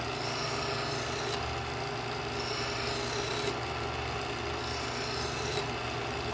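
A kitchen knife is drawn through an Edgeware ceramic wheel sharpener, making a continuous gritty rasp close by with two brief scraping pulls standing out. No one talks.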